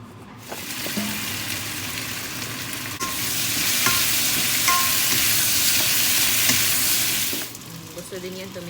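Meat sizzles and fries in a pan with rosemary and garlic powder added, a steady loud crackle with occasional stirring clinks and a brief voice near the end.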